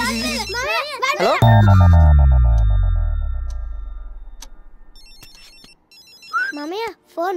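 A telephone ringing in a scene from a Telugu film, with electronic ringing tones and beeps that follow a burst of voices and a loud decaying sweep, and more talking near the end.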